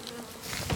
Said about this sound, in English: They are some unhappy bees.